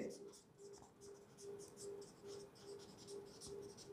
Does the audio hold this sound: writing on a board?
yes